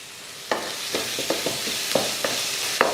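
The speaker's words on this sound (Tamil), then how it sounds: "நல்லா ஒரு நிமிஷம் இந்த மாதிரி வதக்குனிங்கனாலே நல்லா வதங்கிடும் பாருங்கள்" Tomato masala sautés in a hot pan with a soft, steady sizzle, broken by a series of scraping stirs from a spoon about every half second.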